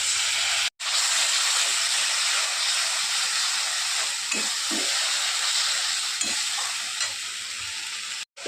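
Spice paste and grated tomato fry in hot oil for a Bengali fish curry, giving a loud, steady sizzle that runs almost the whole time, with a couple of brief drops and faint stirring scrapes.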